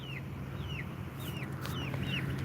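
Chickens cluck in a short series of rising, chirpy calls over a steady low hum, close by and moderately loud, with no talking.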